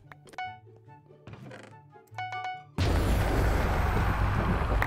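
A Minecraft Bedwars explosion goes off after a stretch of quiet in-game clicks and thuds, then a loud, sustained, noisy boom and rumble fills the last couple of seconds.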